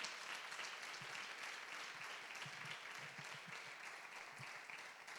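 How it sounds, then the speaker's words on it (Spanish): Faint, distant audience applause at the final of a science monologue contest at the University of Córdoba, a soft, even wash of clapping sustained throughout. "me gustaría que le dierais un aplauso"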